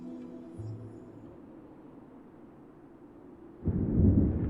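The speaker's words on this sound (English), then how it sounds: "I hear thunder. Rain is soon to follow." A low, soft thunder rumble from the video game Fire Emblem: Three Houses builds and swells into a heavier roll near the end, with no talking.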